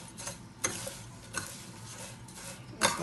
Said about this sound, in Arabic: نقلبيها بس شوية كده